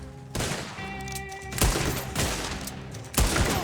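Explosive-ammunition gunfire in Red Dead Online, several heavy booming blasts a second or so apart with ringing tails and reverberation, loud and close.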